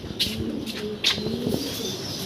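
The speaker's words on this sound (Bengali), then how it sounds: "পাশের রুমটার ভিতরে কিন্তু আরও হিউজ পরিমাণ কবুতর আছে" Soft, low pigeon coos overlap from several birds indoors in a pigeon farm loft, with faint chirps and a brief flutter, moderately close and fairly quiet.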